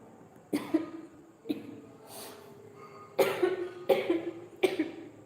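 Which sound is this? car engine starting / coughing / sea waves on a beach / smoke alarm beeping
coughing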